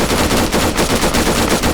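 Machine gun fire in the ArmA 3 video game rattles in a loud, continuous burst of rapid, evenly paced shots with no pauses and no voices.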